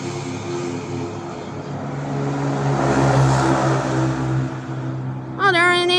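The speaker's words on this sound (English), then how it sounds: "Oh, there it is. Airbus A319." An Aerolineas Argentinas Airbus A330-200 airliner takes off at Miami, its jet engines roaring in a steady, loud, tonal drone that swells in the middle, with brief voices near the end.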